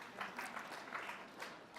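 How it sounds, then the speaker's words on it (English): A conference audience at a business breakfast, where New York's governor is speaking, breaks into faint, steady applause that carries on evenly for under two seconds with no voices over it. "You should applaud for that because it's true."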